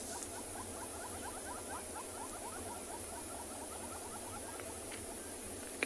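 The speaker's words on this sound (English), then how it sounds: "You can hear the birds calling." Wild birds calling in the South African bush on a morning safari, among them common scimitarbills and southern yellow-billed hornbills, sounding as a steady, fairly faint chorus of repeated chirps and trills over a constant background hiss.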